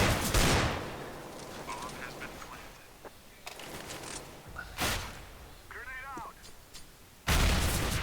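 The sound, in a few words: grenade bouncing in a video game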